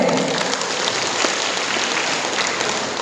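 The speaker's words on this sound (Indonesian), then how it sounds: "tepuk tangan buat UMC" An audience at a workshop in the UMC convention hall claps for UMC, a dense, even wash of many hands that holds steady the whole time with no voices over it.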